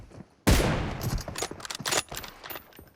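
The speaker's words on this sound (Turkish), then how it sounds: "Son atış ve ölüm." Gunfire from the mobile battle royale game PUBG Mobile, a sudden loud burst of rapid shots followed by several more scattered cracks in quick succession.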